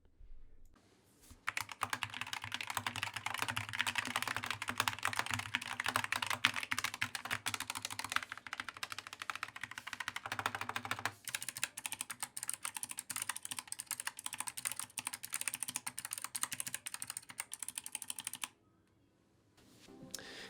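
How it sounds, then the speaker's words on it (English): Steady typing on a Wooting One mechanical keyboard with red switches, close and continuous, with rapid clacky keystrokes running for most of the stretch before stopping near the end. "as for the sound test on this one, I've got the red switches on pretty much the entire board"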